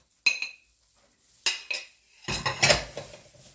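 A spoon knocks and scrapes against a bowl while flour and milk are mixed into pie dough, several separate clinks followed by a busier cluster of scraping and tapping, close by with no talk.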